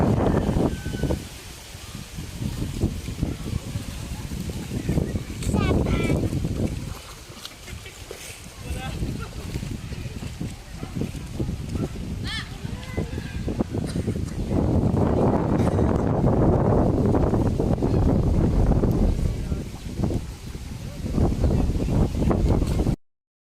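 Steady wind buffeting the microphone outdoors at a river, loud and continuous, with people talking over it throughout.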